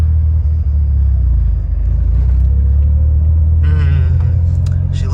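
A turbocharged Datsun 280Z engine rumbles loudly and steadily from close by, a heavy low drone throughout with a brief higher whine rising over it toward the end.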